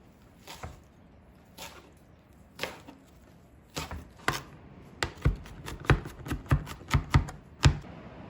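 A knife chopping seven peeled garlic cloves on a board: sparse, crisp knocks at first, then speeding into a quick, regular run of close, sharp chops, with no talking.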